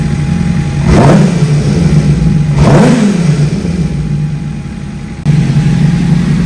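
A Suzuki GSX-R600 motorcycle engine idles steadily and close by, with two sharp throttle blips that rise and fall quickly about two seconds apart before it settles back to idle.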